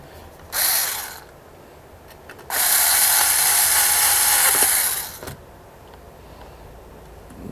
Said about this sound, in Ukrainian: Треба тепер закрутити назад все, що було на платі